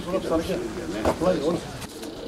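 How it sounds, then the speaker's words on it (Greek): Racing pigeons cooing in a loft, a steady layered murmur of soft repeated coos at close range, mixed with a voice talking over them throughout. "Πάμε να δούμε τώρα και τα πουλάκια από κοντά."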